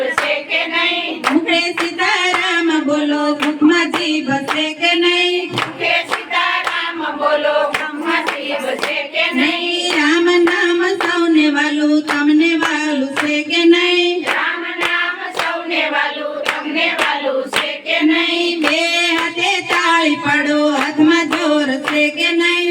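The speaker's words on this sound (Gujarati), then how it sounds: "બે હાથે તાળી પાડો" Steady rhythmic hand clapping keeps time with a sung Gujarati devotional bhajan kirtan, the claps loud and continuous under the melody.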